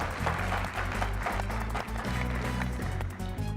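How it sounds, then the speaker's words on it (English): A crowd applauds the participants of a university quiz challenge in Fiji, sustained clapping with a low rumble and music-like tones underneath, fairly loud and continuous. "Ladies and gentlemen, can we give a big round of applause to all our participants?"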